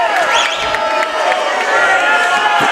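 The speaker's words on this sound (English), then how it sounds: "the home crowd didn't like that call" A home crowd in a high school varsity boys' basketball gym reacts loudly to a referee's foul call, with a sustained mass of shouts, jeers and cheering voices.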